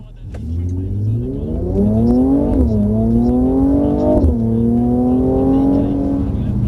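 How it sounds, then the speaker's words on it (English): Mercedes CLS coupe engine revving up hard as the car accelerates, a loud rising drone with steady climbing pitch, a brief dip around a gear change, then pulling strongly again close by. "So you can accelerate hard, brake hard."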